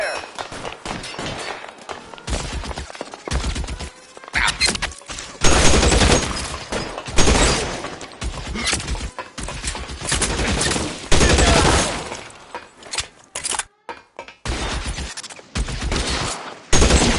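Sustained suppressing gunfire from a police shootout in L.A. Noire: loud, dense bursts of automatic and rapid shots, with short pauses between volleys and a voice shouting briefly in the clamor.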